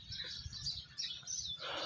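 Birds chirp softly in an aviary in Bannu, Pakistan, with brief high tweets layered over one another against a quiet background, no voices.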